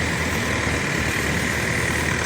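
A parked coach bus idling after arriving from Klaten, with a steady, loud, unchanging engine rumble throughout.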